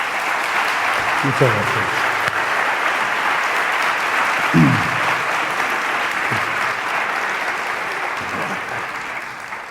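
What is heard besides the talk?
audience applause welcoming a speaker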